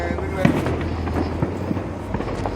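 Fireworks pop and crackle at a distance in scattered bursts, under a steady outdoor background with people talking nearby.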